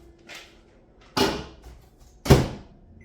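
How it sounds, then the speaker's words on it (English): A kitchen microwave door is opened and shut while chocolate treats are being made: a faint first click, then two sharp, close thumps of the door about a second apart, with quiet room tone between. "I'm going to put the green in the microwave too."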